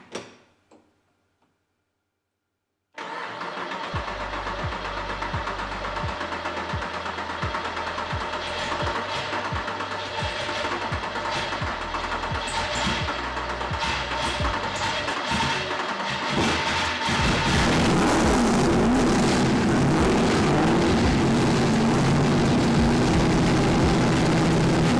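An LS3 V8 in a Nissan Silvia drift car on a dyno fires up after a moment of silence and settles into a loud, steady, rumbling run, then grows harsher and louder as the revs climb toward the end.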